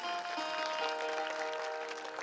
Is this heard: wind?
no